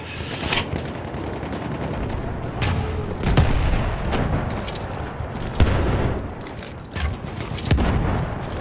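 Gunfire in the video game Battlefield 1: a steady crackle of shots with louder bursts landing every second or two, close and loud, over a constant rumbling battle background with no talking.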